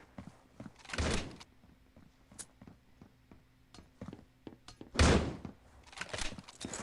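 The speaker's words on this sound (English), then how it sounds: "Tossing flashbang" A flashbang grenade tossed in the Critical Ops tournament shooter, heard as two loud bursty thumps about four seconds apart, with scattered smaller clicks and thuds from the game between them.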